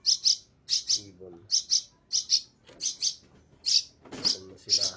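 Small birds being fed chirp in quick paired bursts, a bright, close, repeated tweeting pattern about every half second, with faint low murmurs of people underneath.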